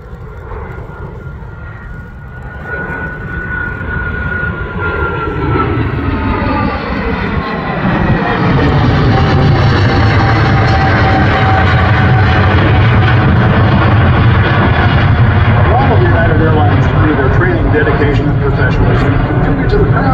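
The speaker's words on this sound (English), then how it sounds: "Once again, directly overhead, out over Lake Winnebago, and headed our way for his final pass, Captain Ty Lautzenheiser" A United Airlines Boeing 777-300ER jet makes a low demonstration pass at Oshkosh EAA AirVenture 2022, its engine roar swelling from a distant rumble to a loud, sustained overhead blast with a sweeping pitch.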